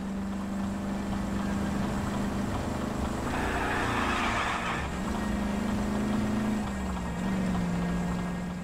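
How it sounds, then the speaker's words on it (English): Struggling car engine in the video game LA Noire, a steady droning hum that rises and falls in pitch as the car strains, with a brief brighter surge midway; no talking. "You can just hear the car is struggling at this point."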